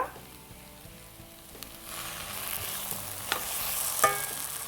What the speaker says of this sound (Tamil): ஈவனாக எல்லா மசாலாவும் அப்படியே நமக்கு உருளைக்கிழங்கில் நல்லா மேஷ் ஆகிற மாதிரி சேர்த்துக்கோங்க